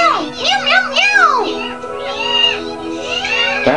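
A voice imitates the meowing of a cheagle creature from Tales of the Abyss, giving a run of high, sliding meow-like calls, loud and close, with a tone-like hum underneath.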